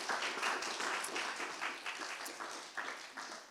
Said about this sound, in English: So everyone give yourselves a round of applause.